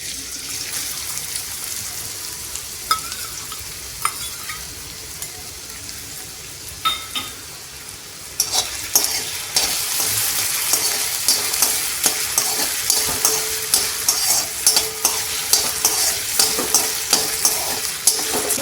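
Small-cut potatoes fry in hot oil in a pan, a steady crackling sizzle with soft stirring scrapes. It starts quieter and turns noticeably louder and busier about halfway through, continuing without talk.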